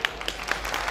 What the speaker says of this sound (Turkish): Zorla alkış aldık sayın valim.